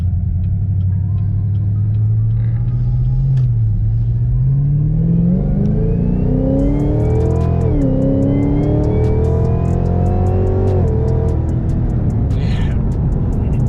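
Dodge Hellcat accelerating hard at part throttle, a loud deep engine rumble rising steadily in pitch through the gears with a brief shift dip, close and continuous.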